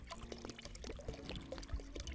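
Liquid fuel poured into a car engine in a cheap car-repair video game, a faint, close trickling pour with small gurgles and splashes over a low background hum.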